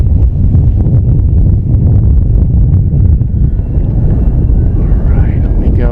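A Flightline 1600mm Corsair RC warbird, run on a 6S 6000mAh lipo, drones steadily overhead on a bright sunny day, a continuous loud engine roar mixed with heavy wind buffeting on the microphone.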